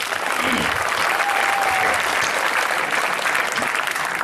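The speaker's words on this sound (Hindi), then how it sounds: "एक बार जोरदार तालियां बजाकर" Loud, dense applause from an audience at a Hindi poetry recital in a village setting, steady and sustained throughout with crowd noise underneath.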